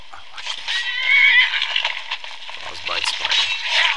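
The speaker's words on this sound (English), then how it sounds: "I can hear a horse" A horse neighs in the video game Skyrim, a loud, drawn-out whinny up close, followed by a rustling, hissing stretch of game sound and a second rising whinny near the end.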